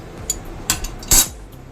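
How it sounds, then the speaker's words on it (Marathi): Metal tongs stir a pot of wet Bombay duck (bombil) fish curry, giving a few sparse, light metallic clinks and taps against the pot in a quiet kitchen. "असा चिमटा घेऊन रस्सा असा थोडासा हलवून घ्यायचा आहे"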